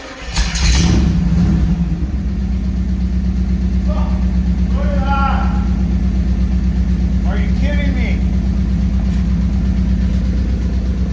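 Chevrolet Camaro engine idling with a steady low rumble and a loud burst at the start. Someone talks over it in short bursts.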